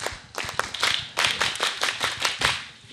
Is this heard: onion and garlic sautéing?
no